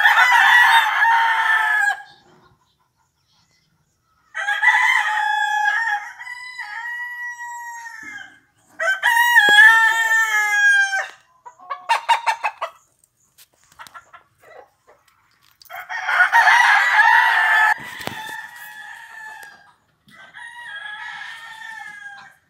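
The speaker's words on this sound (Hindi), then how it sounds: "जिला पशुपालन विभाग बोकारो में कितने सारे मुर्गे हैं" Roosters at a district animal husbandry department farm in Bokaro crow loudly and repeatedly in turn, with chickens clucking between calls and short quiet gaps, close and clear with no talking.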